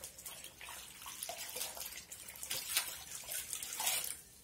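Cloth being rinsed and wrung in water while cleaning a dirty sofa at home, with splashing and trickling sounds that rise and fall in bursts, close and fairly loud, no talking.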